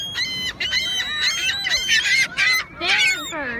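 Seagulls call loudly and close by at a beach while being fed, their harsh, repeated squawks coming in quick overlapping bursts.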